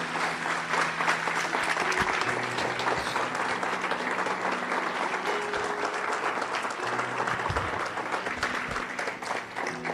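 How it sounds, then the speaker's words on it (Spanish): A church congregation applauds loudly and continuously in a large room, a dense, sustained wash of clapping that holds for about ten seconds, with low musical tones under it. "Un aplauso al Señor bien fuerte"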